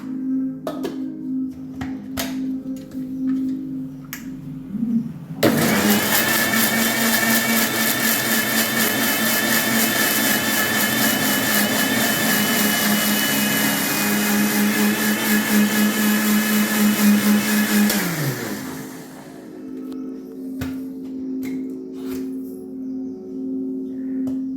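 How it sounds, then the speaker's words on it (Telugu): Mixer grinder blending a homemade milkshake, a loud steady whirring roar that starts abruptly, holds for about thirteen seconds, and winds down, with quieter kitchen sounds before and after. "దీన్ని మిక్సీ పట్టేస్తే మన మిల్క్ షేక్ రెడీ అయిపోతుంది"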